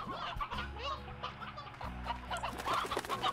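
A chicken in the video game Slime Rancher clucks in soft repeated bursts over a low game hum, with other bird-like chirps nearby.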